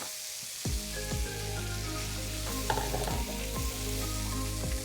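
Carrots stir-frying in a hot Professional Series electric wok, a steady close sizzle with a low hum beneath and several sharp scrapes and clatters of a utensil against the pan, no voices.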